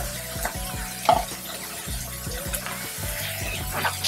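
Onions and bacon frying in sauce in a pan, stirred with a utensil that scrapes in repeated strokes over a constant sizzle, close and fairly loud.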